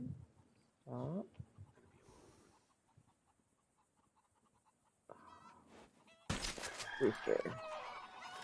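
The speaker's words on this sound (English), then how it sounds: "Rooster." A rooster in a video game clucks in short bursts and lets out a crow among other game sounds, close and fairly loud, with a voice talking briefly.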